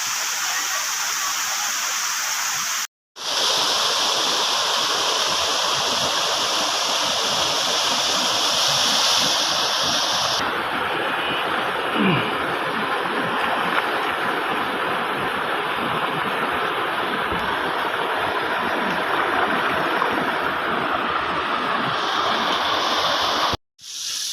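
A river stream flows steadily near a waterfall in a forested setting, producing a loud, continuous rushing wash that holds evenly throughout, broken only by two brief cuts of silence.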